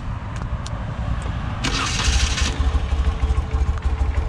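A 1992 BMW R100 GS motorcycle engine starting: a brief whirring crank, then the boxer twin catches and settles into a throbbing, steady idle, close and loud with no talk.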